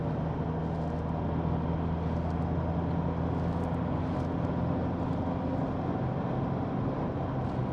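A vehicle with a 4JJ1 diesel engine and six-speed automatic transmission cruises up toward 100 km/h in fifth gear with lockup, giving a steady, even engine and road drone with no clear rise or fall.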